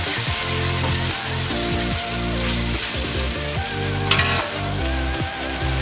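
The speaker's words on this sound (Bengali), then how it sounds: "জিরে বাটা দিয়েও কিন্তু সুন্দরভাবে নেড়ে নিতে হবে।" Chicken liver and stomach fried with cumin paste and stirred in a pan, a steady sizzle under background music with one brief scrape of the spatula.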